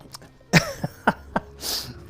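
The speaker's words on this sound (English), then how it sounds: "I'm gonna sneeze." A person sneezes close by: a few sharp throat and breath bursts build up to a hissing release, with no talk.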